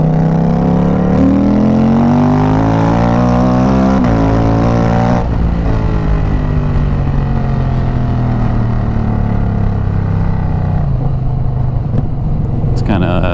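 A loud Indian Scout Bobber motorcycle engine pulls up through the gears with a quick shifter while riding, its pitch climbing and dropping at each shift, with steady wind roar underneath.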